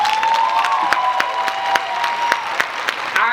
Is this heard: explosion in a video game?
no